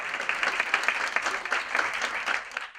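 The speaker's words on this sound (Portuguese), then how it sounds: "Uma salva de palmas para Elza Gerich." Steady applause from a conference panel audience, dense and continuous clapping throughout, fairly loud and close.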